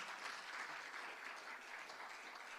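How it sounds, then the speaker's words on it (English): An audience gives a round of applause for a speaker at a talk on climate and technology, a steady, dense wash of clapping that fills the whole stretch at fairly low level. "have a round of applause for Neela"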